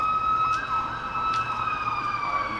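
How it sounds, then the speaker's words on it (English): Emergency vehicle sirens wail in the distance, a steady rising and falling tone heard over faint background noise, with a few short knocks in between. "Sirens again."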